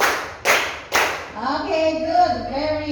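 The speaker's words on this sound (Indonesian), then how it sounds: "tepuk 1, tepuk 2, tepuk 3." A school class claps in unison three times, sharp and evenly spaced, followed by a teacher speaking to the students.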